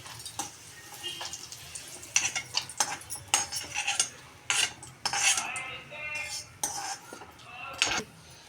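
Fried ingredients for a fenugreek leaf and tomato chutney being scooped from a pan into a bowl: close, irregular clinks and scrapes of a spoon against metal and dishes, no talking.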